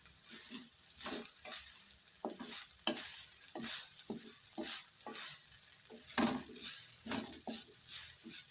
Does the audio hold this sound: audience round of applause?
no